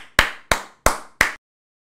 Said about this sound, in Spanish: Bien, bro, aplausos.